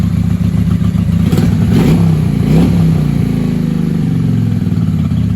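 A 1995 Honda Shadow VLX 600 motorcycle engine runs loudly nearby, revving up in a few quick blips over a rough, throbbing idle.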